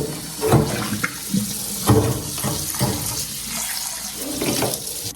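Water running and splashing into a stone molcajete as it is rinsed clean, a close, loud, uneven rush with sloshing surges.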